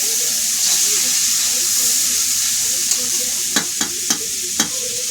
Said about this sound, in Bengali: উনুনে রান্না হচ্ছে বরবটি চচ্চড়ি